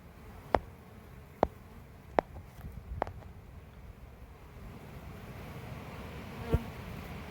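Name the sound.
honey bees buzzing around a hive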